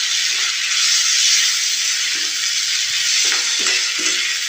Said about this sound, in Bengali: দিয়ে পেঁয়াজগুলোকে আর মশলাকে একটু ভালো করে ভেজে নেব।